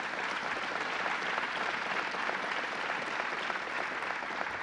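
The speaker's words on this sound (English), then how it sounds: "Your superstar mayor, let's give him a big round of applause." Crowd applause at a groundbreaking ceremony for an expansion project in Ithaca, a dense, steady wash of many hands clapping at once, loud and sustained throughout with no voices rising above it.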